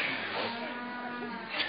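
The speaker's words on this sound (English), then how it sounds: "You're going to listen to me or the cow?" A cow moos once in a long, steady low call that carries clearly through the whole moment, heard outdoors during a church sermon.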